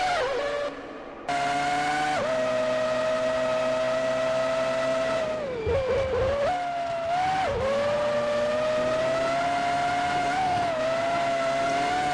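Formula 1 car engine in the Formula One 2003 racing game, a BAR Honda at San Marino: a loud, sustained high-pitched whine that holds steady, dips briefly as revs fall, then climbs back and keeps droning throughout.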